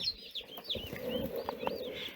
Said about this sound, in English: want to see a box of chickens?